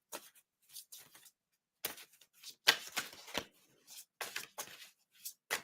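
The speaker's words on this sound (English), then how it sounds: "I'll pull two more cards." Oracle cards being shuffled and drawn, a series of crisp papery riffles and flicks in short bursts separated by brief pauses, close and fairly quiet with no talking.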